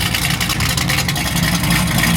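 Loud, steady idle from the modified exhaust of a 600HP Chevrolet Camaro SS switched to quiet mode, a dense low burble held close to the microphone with no talk over it.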